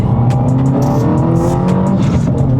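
A 2022-or-later Subaru WRX engine revs hard and pulls through second gear, its deep rumbling roar climbing steadily in pitch, close by and alone.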